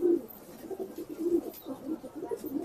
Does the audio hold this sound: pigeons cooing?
yes